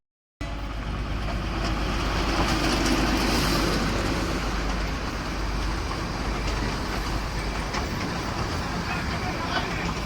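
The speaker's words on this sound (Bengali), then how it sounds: "ওখানে টয় ট্রেন ছিল," The Darjeeling toy train running near the station, a continuous broad rumbling roar that begins abruptly and holds steady, with voices faintly mixed in.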